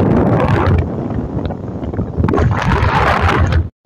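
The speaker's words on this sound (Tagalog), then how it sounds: "Ang talaga ng hangin dito." Strong outdoor wind buffets the microphone in a loud, continuous low rumble with surging gusts, then cuts off abruptly at the end.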